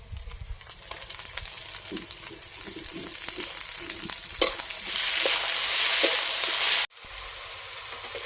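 Chopped tomato goes into a hot frying pan with oil and dried chilli powder for an old-style chicken curry, giving a steady close sizzle with stirring scrapes that swells louder midway, then briefly cuts out before resuming.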